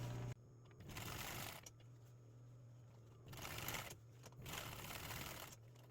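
A sewing machine stitches down the waistband of a pair of jeans in short close bursts of rapid mechanical whirring, separated by brief quieter pauses.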